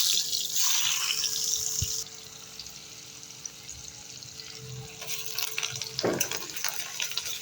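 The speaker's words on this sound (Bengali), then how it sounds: "তেল গরম হয়ে গেছে, পেঁয়াজ দিয়ে" Onions dropped into hot oil with spices sizzle in a pan, a bright spitting hiss that settles into a steady fry, with a brief utensil clatter near the end.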